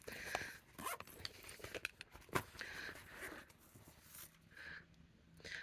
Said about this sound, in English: toothed plastic zipper versus, let's see, where's the zipper pull?